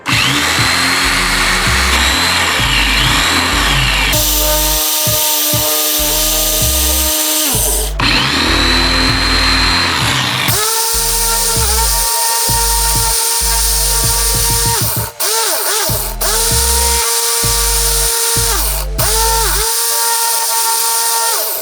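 An electric drill bores a hole in a workpiece with loud, continuous motor whine, stopping and restarting several times with short pauses between bursts.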